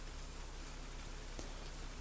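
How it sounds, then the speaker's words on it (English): Rain in a video game falls in a steady, soft hiss of patter, even and continuous through the short stretch, with no voices. "Till I woke up to the sound of rain."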